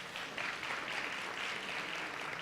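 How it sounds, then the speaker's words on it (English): Audience clapping at a leadership away day, a steady broadband patter of many hands sustained evenly throughout, no speech over it. "Go ahead and clap."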